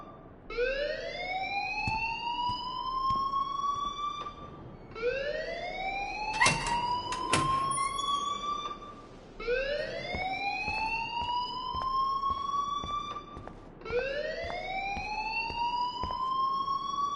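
A video game alarm wails in four long rising sweeps, each climbing and holding before cutting off, loud and alone with brief clicks between.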